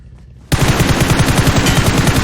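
Rapid automatic gunfire from a battle royale video game bursts in after a brief quiet moment, loud and close, a continuous stream of evenly spaced shots.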